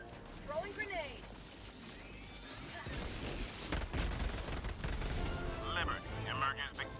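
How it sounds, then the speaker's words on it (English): A grenade explodes in a video game, a low rumbling blast that swells and rolls on for several seconds amid continuing gunfire and game noise, with brief chirping in-game voices before and after. "Throwing grenade."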